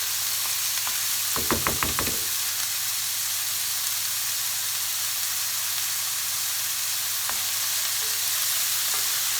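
Ingredients for a seafood pasta fry in hot oil, making a continuous, even hiss that runs the whole time, with a brief ringing clatter near the start; no voices.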